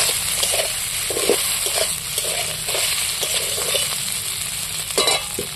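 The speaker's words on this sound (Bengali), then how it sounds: "তেল গরম হয়ে গেছে, পনিরগুলো তুলে দিচ্ছি। এবার তেলের মধ্যে আমি একটু হালকা করে নেড়ে চেড়ে নিই।" Paneer cubes frying in hot oil, with a steady bright sizzle and repeated soft scraping knocks from stirring at an irregular rhythm, close by.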